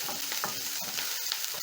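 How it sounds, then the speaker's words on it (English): Sliced white onions fry in oil previously used for frying fish for a stew, giving a close, busy sizzle with quick stirring scrapes throughout. "Stir in the onions and cook until soft."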